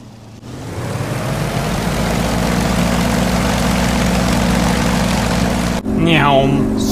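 A Yak-52 propeller trainer aircraft in the DCS flight simulator gives a loud, steady, droning engine and propeller hum that holds constant for several seconds. It briefly dips and shifts near the end as another sound cuts in.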